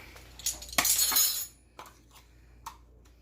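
A metal teaspoon clinks and scrapes against a glass or ceramic dish while measuring chopped garlic, with one bright rattling burst followed by a few lighter taps, close and fairly quiet, no voices.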